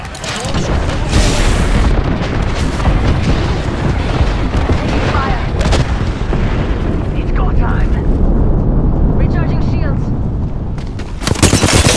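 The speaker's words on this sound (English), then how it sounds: "Calling the airstrike. Get down, airstrike." Airstrike explosions in Apex Legends pound almost nonstop for twelve seconds, dense overlapping booms and blasts close and loud, with a final burst at the end and game voice lines over the barrage.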